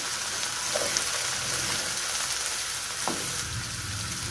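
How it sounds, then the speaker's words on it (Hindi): Okra (bhindi) fries in a pan with a steady, soft sizzle that runs throughout, close and even, with no talk over it. "भिंडी हमारी हो चुकी है फ्राई।"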